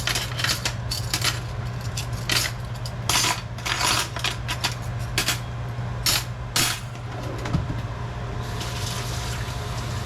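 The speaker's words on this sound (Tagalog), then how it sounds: "Yung maghugas ng pinggan." Dishes washed at a kitchen sink, with plates and utensils clinking sharply and irregularly over steady running water and a low mechanical hum, close and fairly loud throughout.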